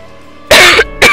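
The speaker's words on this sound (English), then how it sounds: "I just violently coughed." A person coughs violently and very close to the mic: one harsh, loud burst followed a moment later by a second, shorter hack.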